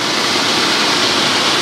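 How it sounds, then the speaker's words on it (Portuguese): Floodwater after heavy rain rushing down a rural stream, a tributary creek at Sítio Mandacaru, as a steady, loud, close broadband roar of churning water with no talk. "muita água passando aqui nesse momento"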